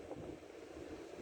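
Strong wind gusting up to about 40 knots buffets a parked car, a steady broadband roar with low rumbling pressure swells and microphone wind noise throughout, no speech.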